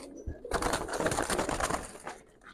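Giribaz pigeons coo and rustle close by in a loft, a dense burst of throaty sound lasting a couple of seconds.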